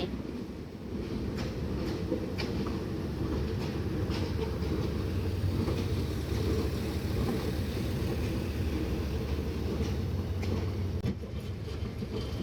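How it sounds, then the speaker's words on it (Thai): Steady low diesel rumble of a Fuji E 4023 diesel locomotive idling and moving slowly while shunting in the Bangkok station yard, continuous throughout with faint clanks and wind noise over it. "ฟูจิ e 4023ช่วงนี้ก็มาทำสับเปลี่ยนในย่านสถานีกรุงเทพค่ะ"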